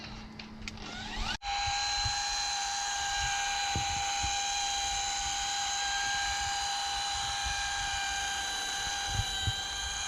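A rotary polisher with a lamb's wool pad spins up and runs at a steady high whine while polishing a boat's topsides with compound, close and loud, with faint bumps of the pad against the hull.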